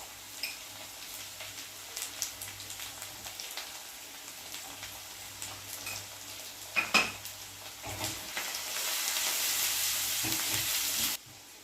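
Onions frying with ginger garlic paste and turmeric for an okra fry, a continuous close sizzle broken by spoon scrapes and metal clinks, the hiss growing louder toward the end, no speech.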